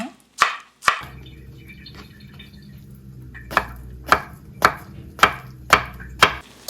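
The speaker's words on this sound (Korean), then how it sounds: "그냥 썰어주세요. 잘게 종종종." A small kitchen knife chops food finely on a board, with about ten sharp, evenly spaced knocks. They are close and crisp, with short gaps between strokes and no talking.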